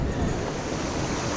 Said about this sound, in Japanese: 波だから。